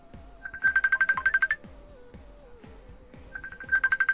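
Phone ringtone going off: two bursts of rapid, loud electronic trilling beeps separated by a quieter gap, close and alone without talk.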